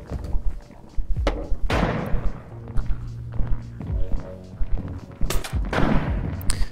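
Marksman's gunfire in a video game, several sharp booming shots spaced a second or so apart, each followed by a short rumbling tail, with low background tones between.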